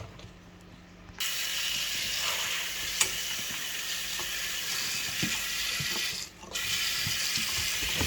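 Tap water runs steadily into a kitchen sink while vegetables are washed, a loud, close, continuous rush with small splashes and clatters, broken by a brief pause near the end, with no voices.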